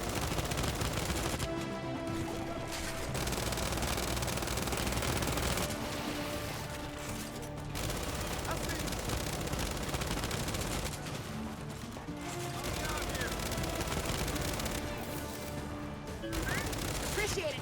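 Regular-ammo gunfire in the shooter game Gears 5 rattles in long, dense automatic bursts, loud and continuous, with brief gaps between volleys and game noise layered throughout.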